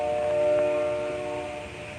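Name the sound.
train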